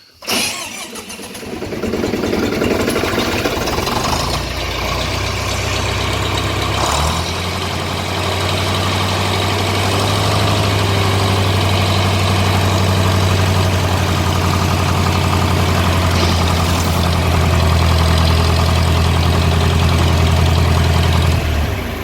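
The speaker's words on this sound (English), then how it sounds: "Here goes the gear reduction starter." A John Deere 3020 tractor engine with a gear reduction starter cranks over and catches, then settles into a steady, loud, rumbling idle that runs without a break.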